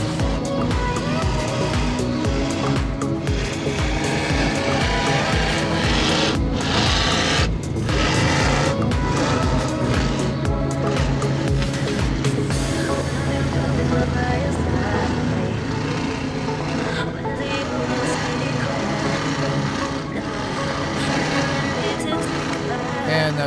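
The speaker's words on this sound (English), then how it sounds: "I want you to hear the power of these engines" Loud, continuous powerboat engine roar with deep rumbling, steady throughout and easing slightly partway, with no talking over it.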